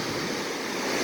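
Small, gentle sea waves wash onto the beach at Bikini, a steady broadband surf hiss that holds level through the whole moment, with no voices.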